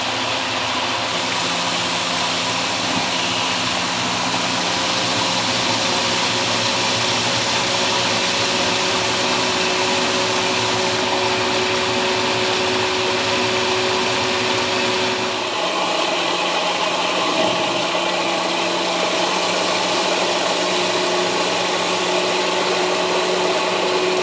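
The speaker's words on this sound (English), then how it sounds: "So let's turn on the first nozzle, this is 1 litre per second nozzle." Arduino-controlled off-grid micro hydro turbine with a 1 litre per second nozzle, giving a steady loud mechanical whir and rush of water that shifts pitch slightly partway through as the valve opens.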